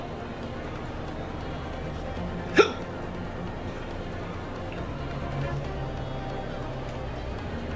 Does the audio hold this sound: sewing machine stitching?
no